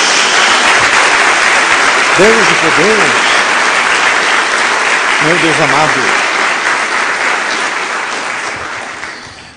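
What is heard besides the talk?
applause from church congregation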